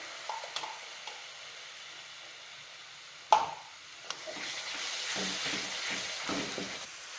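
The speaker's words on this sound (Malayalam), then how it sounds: "ഇനി അത് 2 മിനിറ്റും കൂടെ ഇളക്കി എടുക്കുമ്പോൾ നമ്മുടെ ഹൽവ തയ്യാറാവും" Mango halwa cooked in ghee being stirred in a pan, a quiet sizzle with one sharp knock of a utensil, then thicker scraping and gentle bubbling, near and unaccompanied by speech.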